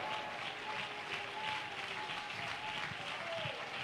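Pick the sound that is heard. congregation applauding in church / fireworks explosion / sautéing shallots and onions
congregation applauding in church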